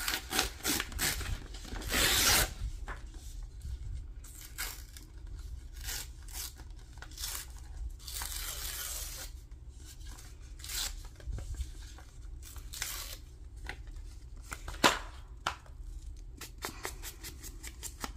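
Paper torn by hand to make a decorative side strip for a journal page, with rough ripping bursts and scraping rubs scattered over a quiet background, up close.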